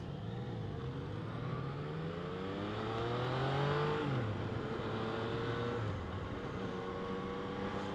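A Yamaha FZ-09 motorcycle engine drones steadily while riding. Its pitch climbs and the sound swells near the middle before settling back, close and continuous, with no talking.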